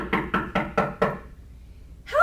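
Five quick, firm knocks on a wooden castle door in a steady rhythm, then a short pause before a voice begins.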